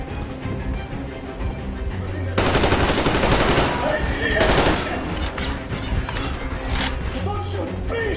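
Machine gun fire during a battle in a Metro video game, sustained loud bursts of automatic shots rattling over the noise of combat, with voices shouting in the mix.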